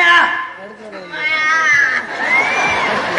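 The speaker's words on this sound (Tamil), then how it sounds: "இப்ப பூனை குறுக்க வந்துருச்சு" A cat meows loudly and close, giving drawn-out wavering yowls that rise and fall, with a voice talking over it.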